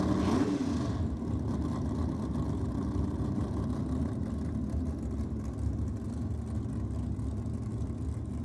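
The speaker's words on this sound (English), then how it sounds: "a red motor powered front engine dragster" A red motor-powered front-engine dragster at Sydney Dragway, a dense, steady engine roar that fills the whole clip at a constant level, loud but not a close, sharp launch.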